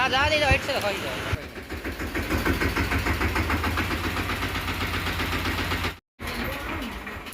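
A diesel tractor engine runs steadily at a mid-pitched idle on a farm at sowing time, loud and close for most of the clip with a brief cut near the end, while voices talk over it.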